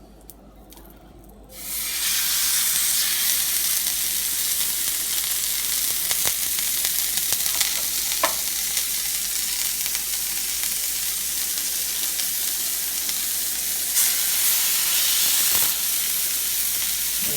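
Veal sears in a pan lightly coated with vegetable oil, a loud, steady sizzle and hiss that starts abruptly after a quiet moment and continues close up, with occasional small pops.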